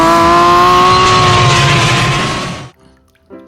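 Toy race car giving a loud, steady buzzing whine that cuts off abruptly, followed by a brief faint rattle.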